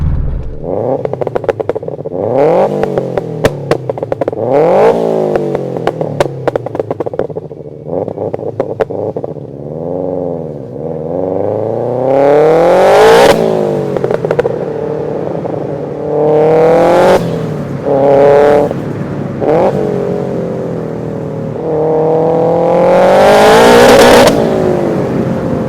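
A 500BHP Subaru estate car's engine revs hard through repeated rising and falling accelerations and gear changes while driving, loud and close from inside the car, with sharp bursts of exhaust and turbo sound and no talking.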